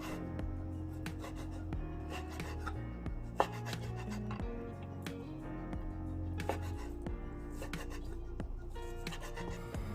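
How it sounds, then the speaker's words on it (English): Beef being cut into small pieces with a knife on a board, a steady run of close, dense chopping and rubbing strokes with a couple of sharper knocks. "Now cut the beef into small pieces."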